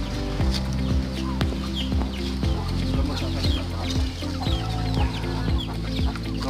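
Free-range native chickens cluck close by in a repeating series of short throaty calls, several birds overlapping against a steady background hum.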